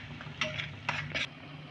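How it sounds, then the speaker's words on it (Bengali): A utensil scrapes and clinks against a pan while spices are worked into tomato, giving three short metallic scraping bursts over a faint steady background with no talk. "সবগুলোকে আমি টমেটোর সাথে ভালো করে মশলাগুলোকে কষে নেব।"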